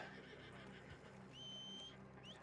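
Horses neigh in a Red Dead roleplay game, with one faint whinny and a higher squeal over a low steady hum, quiet and somewhat distant.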